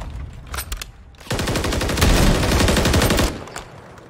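Sniper rifle shots ring out in Call of Duty: Modern Warfare 3, a snipers-only ranked match. A few faint shots are followed by a loud, sustained crackling burst of gunfire lasting about two seconds, which then fades.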